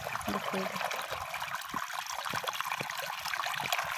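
Water trickles steadily outdoors, a soft, continuous dribbling wash with a few faint low knocks underneath, close and fairly quiet throughout.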